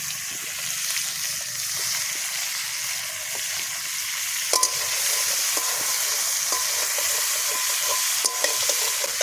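Tomatoes frying in a pan for tomato chutney at a friends' New Year picnic, a steady close sizzle with occasional stirring clicks and scrapes throughout.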